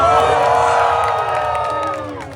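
A crowd cheers and whoops loudly all at once, a dense burst of voices that gradually fades over a couple of seconds.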